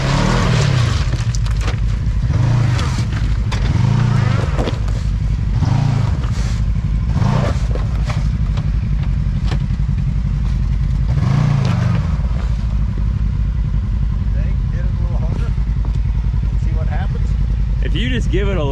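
A UTV engine revs loudly in repeated rising surges as the vehicle crawls over rocks at an off-road park in Missouri, with a steady drone between the pushes and people talking over it.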